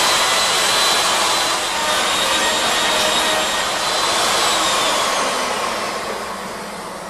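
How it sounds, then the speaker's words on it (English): A high-speed cutting head carves a slowly spinning wooden bowl on a lathe, giving a loud, continuous high-pitched whine and rushing hiss that holds steady and then eases off slightly near the end, without any speech. "a high-speed tool against a slow spinning piece of wood"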